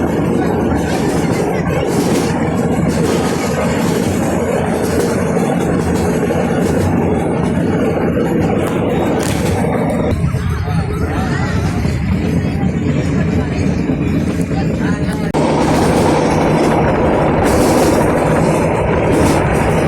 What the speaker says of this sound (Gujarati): જે મીટર ગેજની જેટલી બધી ટ્રેન હાલે છે